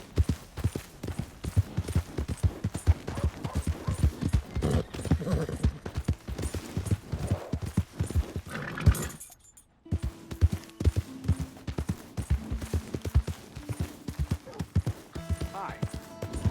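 Horse hooves clip-clopping in Red Dead Redemption 2 on Xbox Series X, a steady close rhythmic trot of hoofbeats that breaks off briefly partway through and then resumes.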